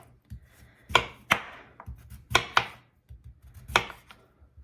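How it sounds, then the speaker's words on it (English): Peeled sweet potatoes are sliced in quick, irregular strokes, with about seven crisp, close cuts and quieter knocks in between. "Now that we have our sweet potatoes washed and peeled, we're gonna slice them."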